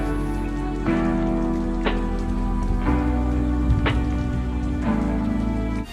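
Steady rain in Kuala Lumpur patters down in a continuous broadband wash, with a few sharper drips or taps standing out at irregular intervals.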